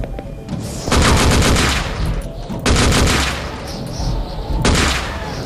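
Gunfire in the video game Gore, heavy repeated bursts of loud automatic shots in long volleys close by, with brief lulls between them.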